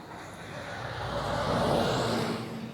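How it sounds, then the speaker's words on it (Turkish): A bus passing on a city street, a broad rising road roar that swells to a peak near the middle and then eases slightly, with no talk. "Şu an bir otobüs geliyor hatta."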